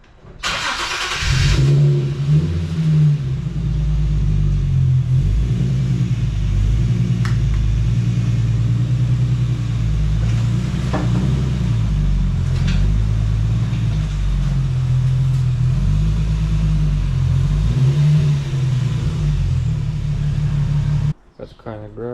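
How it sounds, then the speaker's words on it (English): Infiniti G35 sedan rolling into a home garage, a steady close-up engine rumble with low, mid-pitched idle and gentle throttle that holds for about twenty seconds before cutting off abruptly near the end. "Let me get the sedan in the garage real quick and get started."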